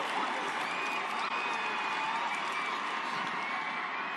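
A stadium crowd at a women's World Cup football match, Colombia against Jamaica, applauds and cheers in a steady, dense wash of noise with no pauses, a commentator's voice faintly woven in.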